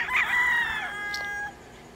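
A Golden Boy sweater gamefowl rooster, an eight-month-old stag, crows once, loud and close, with the long call trailing off and no one talking.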